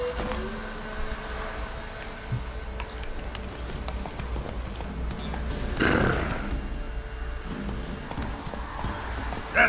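Hooves of Roach the horse in The Witcher 3 on PC, a steady rhythmic clip-clop at a run, moderately loud over a constant low game ambience, with a brief swell of noise midway.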